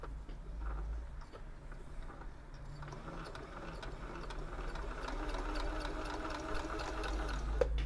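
An old Husqvarna sewing machine runs a straight stitch, a steady whirring mechanical hum with rapid needle clatter that picks up and grows busier toward the end, close and alone with no voices.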